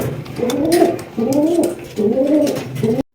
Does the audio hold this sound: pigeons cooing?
yes